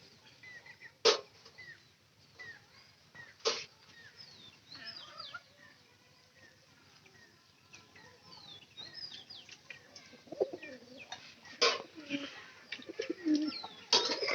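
Soft low cooing of pigeons, repeated calls near and far, with sharp clicks and flutters scattered among them.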